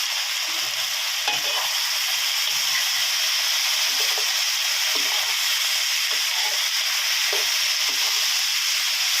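Blanched cauliflower, baby corn and carrot hit a hot wok for stir-fried yellow noodles with fish balls, giving a loud, steady sizzle and hiss with occasional stirring scrapes throughout, with no voices.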